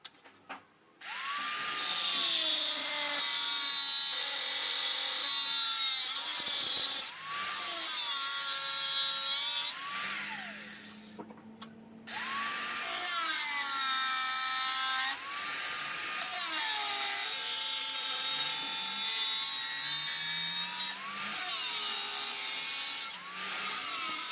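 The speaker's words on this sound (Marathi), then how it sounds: "आता आपण ग्राइंडर लावूयात. चला कटर लावूयात." Angle grinder fitted with a cutting disc, used while building a motorcycle, whines loud and close in long bursts, dropping in pitch under load and briefly spinning down between cuts.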